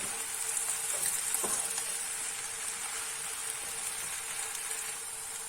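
Potato filling being stirred in a pan for a crispy börek, a steady soft sizzle with faint scraping strokes, close and continuous, with no voices.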